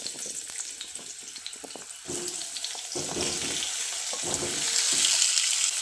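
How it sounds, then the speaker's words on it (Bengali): Pumpkin pieces go into hot oil in a pan after potatoes have been fried, giving a steady close sizzle that swells louder toward the end, with a few stirring scrapes and knocks. "আলু ভেজে তুলে নেওয়ার পর এর মধ্যে দিয়ে দিচ্ছি কুমড়োগুলো"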